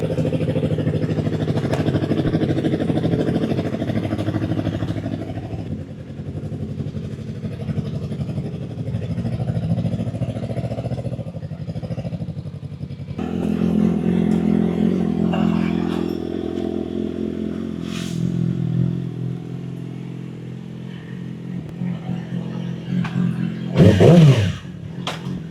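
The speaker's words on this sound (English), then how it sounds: "I just parked the bike there for now" Motorcycle engine idling and running while the bike is wheeled and parked during a 2024 Mustang GT oil change, a steady low rumble with occasional clatter and a few short revs and knocks near the end.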